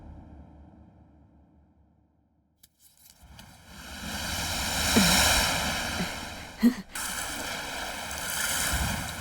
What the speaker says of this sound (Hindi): वो लहरों की आवाज सुनाई दे रही है ना